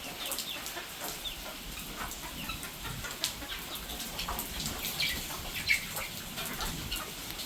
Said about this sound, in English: You wanna play with chickens?